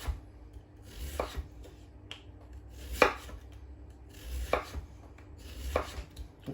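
A knife slicing through raw potatoes on a cutting board, five separate crisp cuts spaced about a second apart, close and quiet with no talking.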